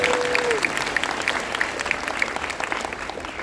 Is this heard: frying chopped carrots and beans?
no